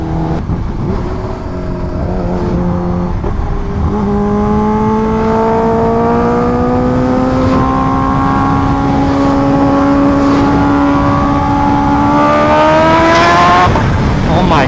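A Kawasaki H2R motorcycle pulls hard in traffic, its engine note climbing steadily and loudly through a long acceleration, close to the rider, with a rider's voice over the top.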